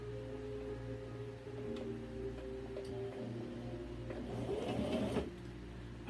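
A sewing machine stitches a T-shirt, its steady mechanical hum running throughout and swelling into a busier, louder whirring burst near the end.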